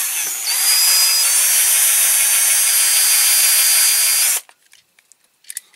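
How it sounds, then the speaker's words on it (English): A power drill whines steadily at high speed for a few seconds, boring out rivet posts on a Corgi Toys Citroen Safari die-cast model with a 2.5 mm bit, then stops abruptly, leaving faint clicks and handling noises. "drilling the holes, the posts out for the rivets"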